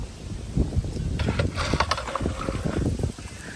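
Gusty wind under heavy clouds buffets the microphone in rough bursts outdoors on a wetland in Naogaon, with faint clattering and movement underneath.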